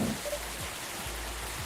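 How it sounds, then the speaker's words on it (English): Rain falls steadily as a soft, even wash of patter under a low droning hum, fairly quiet and continuous. "It's fucking raining."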